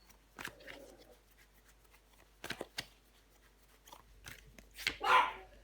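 A pet dog barking indoors, a few short sharp barks spaced out with quiet gaps between them, the last burst louder and closer.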